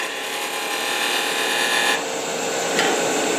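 Wood-turning gouge cutting a bead on a spinning workpiece on a lathe, a steady close scraping hiss that runs unbroken for a few seconds with slight rises in intensity, no voices.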